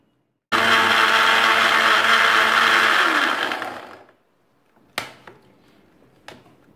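Mixer grinder jar blending coriander-mint chutney with water, a loud steady whirring motor roar for about three seconds that winds down, followed by a few sharp clicks of the jar being handled.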